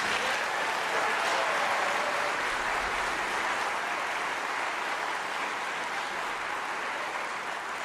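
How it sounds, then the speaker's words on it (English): Concert audience at a choral performance applauding steadily, a dense, even wash of clapping that fades slightly toward the end, with no voices over it. "applause has never felt so good"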